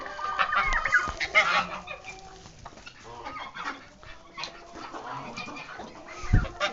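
Several chickens cluck and murmur nearby in a busy, uneven chorus, with occasional louder squawks and rustling.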